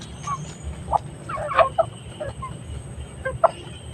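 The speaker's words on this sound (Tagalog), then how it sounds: "Sobrang ingay ng ating mga manok." Chickens cluck in short bursts, several birds close by and fairly loud, with a low background rumble and no talking.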